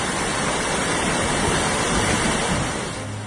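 Flood water surges through city streets in Chiplun, Ratnagiri district, Maharashtra, as a steady, loud broadband rush of flowing water that holds constant throughout, easing only slightly at the very end, with no voices.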